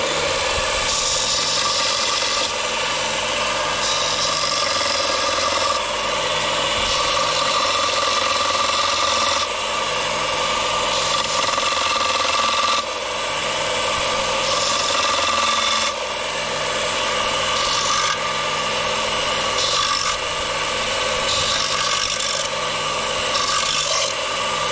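Angle grinder grinding down a steel suspension part for a Mini R50 race car build, a steady loud rasping whine held throughout with slight pulsing in intensity, no talk.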